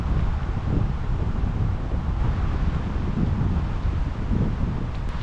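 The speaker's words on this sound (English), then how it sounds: "I was not getting the same wind on the dock that I'm feeling" Strong wind gusting over a microphone at a cold fishing spot near a spillway, a loud, continuous rumbling roar with no pauses and no voices.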